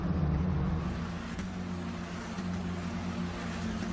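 Formula Renault Eurocup race cars, three battling closely for position, drive past in a steady, blended engine drone that hums without a break at moderate distance.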